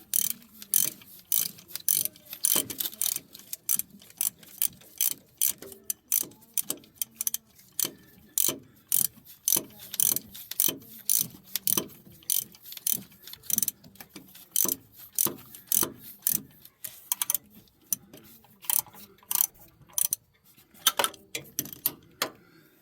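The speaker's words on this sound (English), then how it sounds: "the ratchet just swings back and forth and like it'll screw it back in instead of ratcheting" A ratchet swings back and forth on a mount bolt of a 2009 GMC, giving close, rhythmic bursts of sharp clicking that repeat steadily, with no voices.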